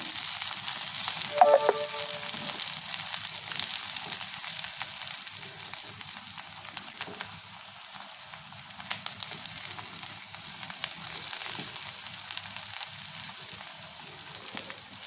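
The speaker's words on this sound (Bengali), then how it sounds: "এটাকে অল্প একটু নাড়াচাড়া করে নিচ্ছি।" Sliced green chillies fry in a pan with softened ridge gourd while being stirred, a steady close sizzle with faint scrapes and a brief metallic clink near the start, no talk.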